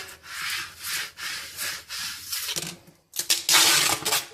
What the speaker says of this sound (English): take your squeegee, rub the decal down